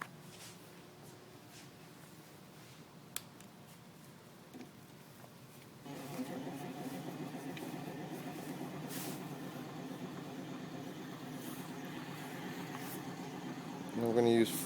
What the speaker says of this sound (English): we're going to use 4 pulse motors here just to get it going up to speed